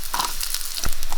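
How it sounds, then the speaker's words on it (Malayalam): Sliced onion drops into hot coconut oil in a pan, sending up a loud, close hiss of frying with a sharp burst as the pieces land. "വെളിച്ചെണ്ണ, സവാള ഇട്ട് കൊടുക്കുക."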